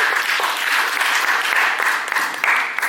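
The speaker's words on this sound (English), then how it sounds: "Please welcome him with a warm applause." A warm round of audience applause welcoming a speaker to the stage at a talk event, loud, dense and steady clapping from a crowd with no voices over it.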